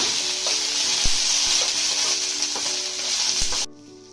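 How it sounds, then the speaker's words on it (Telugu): Green chillies fry in hot oil with a loud, steady sizzle and a few sharp pops, the crackle cutting off abruptly near the end. "ఫస్ట్ మిరపకాయలు వేగించుకోవాలన్నమాట"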